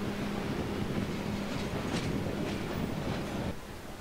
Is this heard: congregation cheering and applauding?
no